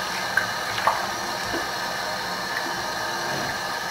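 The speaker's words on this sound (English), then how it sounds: "what I always do is I do a cold splash" Cold water splashes onto a face after a shave, with a steady rush of running water and a few wet splashes and drips, close and fairly loud, and no talking.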